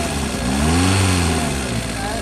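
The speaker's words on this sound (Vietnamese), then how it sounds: "cái máy nổ rất là tròn" A 2009 Kia Morning van with an automatic gearbox, imported from Korea, idles with a steady, smooth low engine hum throughout. A voice talks over it.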